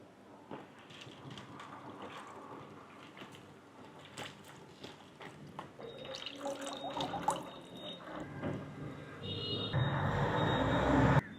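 Okra is washed by hand in water in a home kitchen, with splashing, dripping and wet rubbing that grow louder and busier toward the end, no speech.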